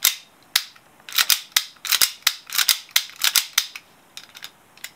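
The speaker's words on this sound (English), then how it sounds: "now reinsert your slide release and press until you hear a positive click" Sharp, bright plastic-and-metal clicks from a WE Hi-Capa 5.1 airsoft pistol being reassembled, a rapid irregular series of close snaps and clacks with no talking.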